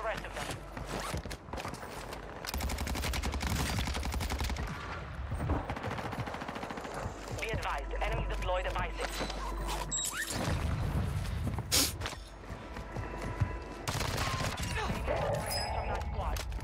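Gunfire from the Cronen Squall in a first-person shooter on the Vondel Park map, sustained bursts of fairly loud shots mixed with game sounds and a talking voice throughout.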